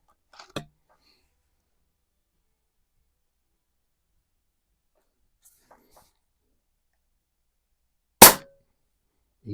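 A Pinty Striker .25 caliber regulated bullpup air rifle fires one loud, sharp crack near the end of a mostly quiet stretch, with a fainter click at the start and another brief pop right at the close.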